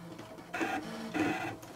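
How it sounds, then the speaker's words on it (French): A Brother ScanNCut cutting machine slicing heat-transfer flex, a close mechanical whirring hum rising in two short motor pulses, steady and alone. "Et là, vous voyez, la machine, elle commence sa découpe."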